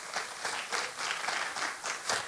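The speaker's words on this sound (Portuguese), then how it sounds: "Você pode aplaudir o nome de Jesus?" A church congregation applauds during a worship service, steady dense clapping with rhythmic swells throughout, close and lively with no talk over it.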